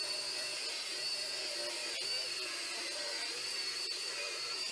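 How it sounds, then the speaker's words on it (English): A power tool cuts threaded rod to length for a workbench clamp, giving a steady, loud, hissing whine that holds unbroken throughout with no talking. "I'm going to cut this threaded rod to the correct sizes"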